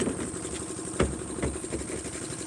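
A machine pumping oil through a pipe to fishing trawlers at Shankarpur jetty runs with a steady mid-pitched engine hum and a few soft knocking thumps.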